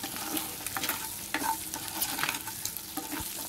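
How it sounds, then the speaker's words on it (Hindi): Boiled eggs coated with salt and chili fry over a medium flame, a soft, close sizzle with light, uneven stirring taps and scrapes, and no voices. "नमक मिर्च लगाने के बाद एक और मिनट के लिए फ्राई कर लेंगे हम मीडियम फ्लेम पर"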